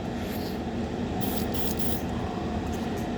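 A paint spray gun sprays base coat on a 1932 Ford roadster, a steady, close hiss throughout, with a few brighter bursts of higher hiss as the spraying intensifies briefly.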